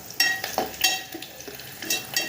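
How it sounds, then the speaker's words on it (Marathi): Red onion and garlic frying in a pan for vada rassa, a close crackling sizzle punctuated by quick bright scrapes and clinks of a spatula stirring, with no speech. "लाल कांदा भाजून घ्यायचा थोडासा लाल भाजत आला का त्यात लगेच लसूण टाकायचं"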